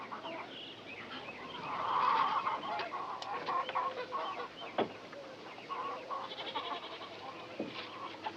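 Farmyard chickens cluck and squawk in a series of close, lively calls, with a few sharp bursts standing out against a quiet outdoor background.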